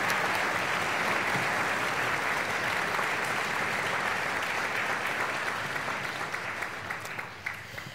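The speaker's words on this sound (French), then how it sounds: "je vous propose de les applaudir encore une fois pour cette belle prestation" Sustained audience applause for the cadet ensemble of the Harmonie Royale de la Concorde at a gala concert in Antoing, a dense, steady wash of many hands that stays loud for the whole stretch and thins slightly toward the end.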